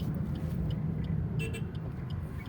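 Car driving during a driving school lesson in Solan, a steady low engine rumble and road noise heard from inside the cabin, fairly quiet and continuous, with faint passing traffic.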